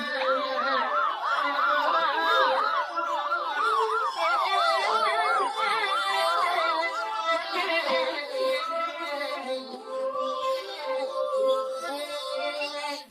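A loud ambulance siren wails nearby, its pitch sweeping rapidly up and down in a repeating yelp before settling into a steadier, wavering tone.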